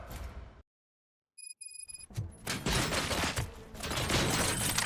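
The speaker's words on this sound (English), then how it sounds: "Gunshots? What's going on?" Gunfire in the video game Robocop: Rogue City erupts after a short silence and a few electronic beeps, with loud, dense volleys of shots crowding together and staying heavy to the end.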